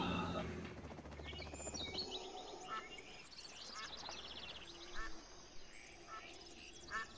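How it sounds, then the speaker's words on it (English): Ducks quack in a video game, several short calls scattered among busy game sounds and chirps, with speech running underneath throughout. "I hear ducks."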